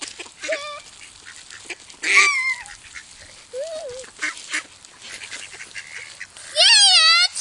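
Ducks quack and honk in bursts while being fed, several calls scattered across the moment at close range, with a child's and adult's voices faintly mixed in between.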